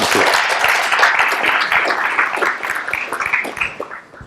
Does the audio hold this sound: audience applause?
yes